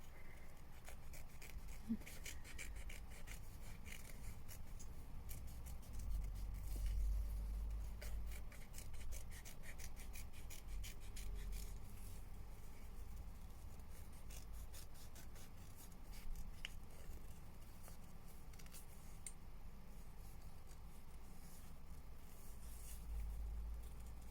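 Scissors cutting fabric applique pieces for a spring quilt block, heard up close as faint, steady rasping and snipping with scattered small clicks over a low background hum.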